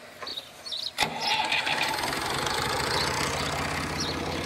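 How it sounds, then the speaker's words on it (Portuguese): A farm tractor engine cranks and catches at a rural pumpkin field, then runs at a steady, close, fairly loud idle with a low rumbling throb, preceded by brief handling noises. "Agora ele vai com o trator."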